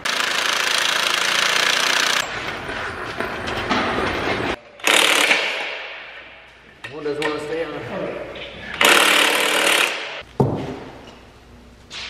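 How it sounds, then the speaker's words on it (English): Impact wrench running during a planter rebuild, giving loud, close ratcheting bursts that stop and start several times with clanks and a brief voice between them. "See, this is why I just am running the impact wrench, because I don't want to have to read things."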